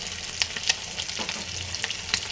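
Fried shrimp with spinach, salt and turmeric is stirred in a sizzling pan, a steady frying hiss broken by several sharp scraping strokes of the spoon, close and alone.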